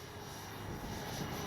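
An Avios Bush Mule V2 RC airplane flies in strong wind, its motor drone steady and moderately loud, blended with broadband wind noise throughout.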